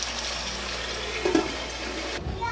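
About a quarter cup of water is poured into chana masala in a pan, giving a steady close splashing rush that ends abruptly, with no voices over it.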